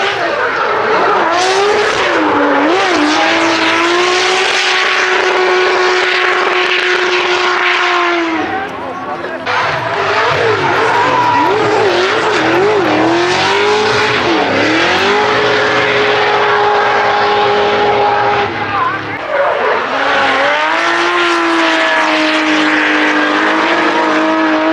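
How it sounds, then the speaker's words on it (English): D1GP drift cars sliding at Motor Fan Festa 2023 in Japan, loud wailing engines holding high revs with rising and falling pitch as the cars pass close by, in repeated long runs separated by brief dips. "Oh, we got drifting going on."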